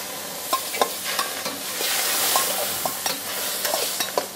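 Crushed pepper being stirred into a liver curry gravy in a pan, a steady wet sizzle with soft scraping strokes of a spoon repeating every half second or so, close and moderately loud, no voices.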